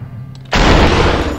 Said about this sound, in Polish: Słuchaj te wystrzały, nie trafiłem tam tego gościa.